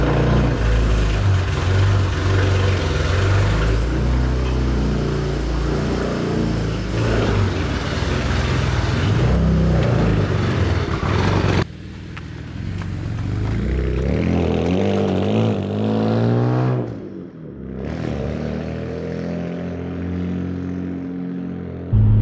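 A BMW E92 with the N54 engine and a welded differential drives past, its loud engine droning steadily before easing off and revving back up as the car pulls away, with no talk over it.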